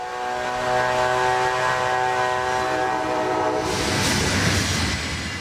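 Amtrak's California Zephyr, train number 6, rolls past on the main line with a loud, steady rumble and sustained horn tones, followed by a rising rush of wheel and car noise.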